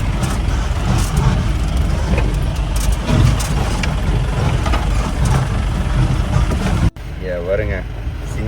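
Vehicles drive along a bamboo-lined road at a scenic hilltop viewpoint in Wayanad, a steady engine rumble and road noise filling the scene with wind, until a brief drop near the end.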